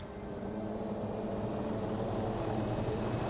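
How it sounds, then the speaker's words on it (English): A small drone flies overhead, giving a faint, steady, even buzzing hum that holds without a break from start to finish, with no one speaking. "Is that a drone?"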